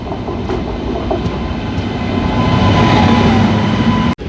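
Steady loud rumble of a Sabarimala-bound train running on rails near Tirupati, with faint rhythmic clatter throughout and no voices, ending in a brief sharp click.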